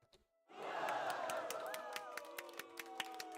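A crowd booing sound effect bursts in after a brief near-silence, a loud, sustained mass of voices with sharp clap-like hits scattered through it.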